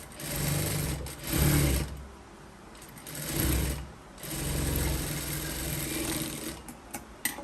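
Domestic sewing machine stitching a cloth piece onto a garment, running in several steady bursts with brief pauses between them, close and fairly quiet, with no talking.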